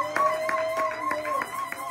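Church congregation clapping in acclamation during a Sunday worship service in Sherbrooke, Canada, a steady run of claps with voices singing or speaking over them.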